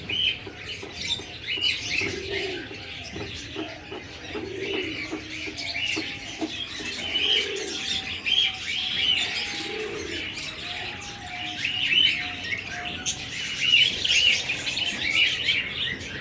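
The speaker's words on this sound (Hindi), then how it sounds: "अब ये मेरे महंगे कबूतर हैं," Pigeons coo softly and repeatedly, mixed with chirps and scratchy fluttering from many birds close by, a busy continuous flock sound with no talking.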